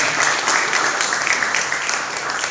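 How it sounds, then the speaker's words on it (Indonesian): A church congregation at a Sunday service applauds steadily, a dense, even wash of clapping that holds without a break. "Mari jemaat Tuhan menyambut dengan tepuk tangan"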